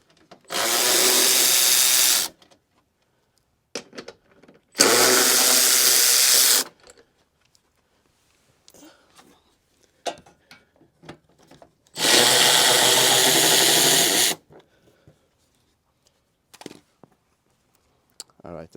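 A power drill backs out the 10mm headlight bolts on a Hyundai Sonata during front bumper and headlight removal: three loud, close whirring bursts of about two seconds each, separated by quiet pauses with small clicks and handling noise.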